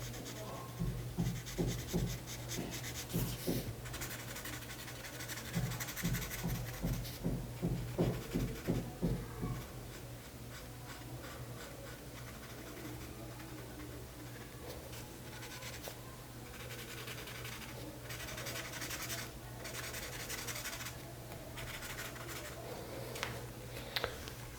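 A pen scratches across paper in quick rhythmic strokes for the first ten seconds, then softer, scattered scribbling continues faintly over a steady low hum.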